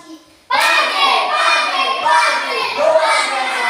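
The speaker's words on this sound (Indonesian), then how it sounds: "Tepuk tangan dulu." A classroom of children bursts into rhythmic hand clapping after a brief quiet start, loud and sustained, mixed with children's voices chanting along.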